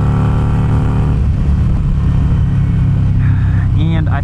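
A 1275cc Harley-Davidson Sportster engine roars loudly and continuously under throttle, a deep pulsing drone heard up close with wind and road noise, rising at the end.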